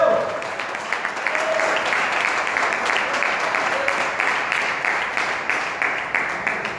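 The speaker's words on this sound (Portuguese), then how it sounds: "Vamos aplaudir bem forte a Deus." Sustained applause from a church congregation during a sermon, with dense, steady clapping and voices faintly mixed in throughout.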